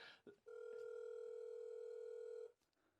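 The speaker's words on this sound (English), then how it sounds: "That's now ringing the other touchscreen, which is down by the side of us here." An intercom touchscreen for a front door system rings with a single steady electronic tone lasting about two seconds, clear and fairly close, then stops.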